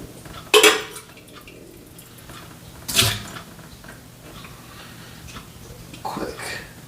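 Dishes clink as a coffee vessel for French press brewing is rinsed out: a few sharp clatters spaced seconds apart, with faint water and background noise between.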